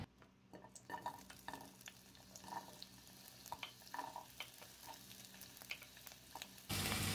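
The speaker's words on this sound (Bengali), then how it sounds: "লো ফ্লেমে হালকা ফ্রাই করে নিচ্ছি।" Onion and capsicum lightly frying in oil over a low flame, a faint, quiet sizzle with scattered soft stirring scrapes, close by, ending in a louder hiss.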